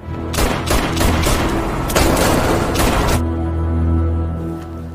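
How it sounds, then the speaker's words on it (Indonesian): A rapid burst of loud gunshots fires in quick succession for about three seconds, then a low rumbling echo lingers. "ia pun menghabisi Patrick dengan beberapa tembakan."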